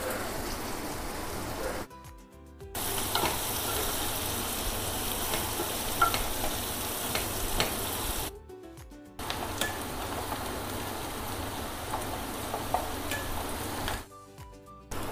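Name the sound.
onions and green chillies frying in a pan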